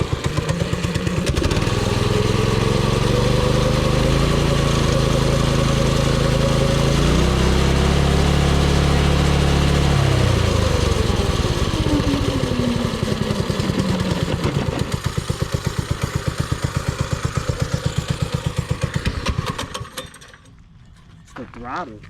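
A small engine runs loudly and close, stepping up and down in revs under throttle before winding down and cutting off near the end.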